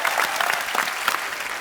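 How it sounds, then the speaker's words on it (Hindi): A studio audience on a TV comedy show applauds steadily, dense clapping filling the whole stretch at a fairly loud, even level. "Stalin sir के लिए एक बार जोरदार तालियां"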